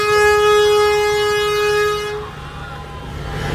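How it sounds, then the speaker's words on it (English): At the Rose Parade on Colorado Boulevard in Pasadena, a vehicle horn blares in one long, loud, steady tone for about two seconds, then cuts off, leaving crowd and street noise. "they're trying to get everybody to honk."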